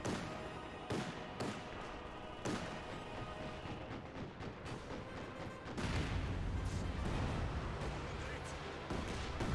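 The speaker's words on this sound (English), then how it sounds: "Bofors activating the fire support, the suppressive barrage ability." A suppressive artillery barrage lands in Company of Heroes 2 on the Malmedy map, with repeated sharp blasts and thuds in quick succession, then a denser rumbling roar of impacts, moderately loud in the game mix.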